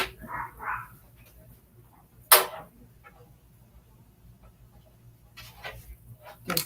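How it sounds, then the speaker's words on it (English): A dog barks a few times in a store, brief yelps standing out over a quiet background while someone sews, with a couple of sharp bursts spread across the stretch. "There's a dog barking in the store."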